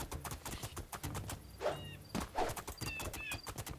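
Horse hooves clip-clop in a steady rhythm across the ground in the fantasy video game Two Worlds 2, moderately quiet, with soft thuds mixed in and a brief whinny partway through.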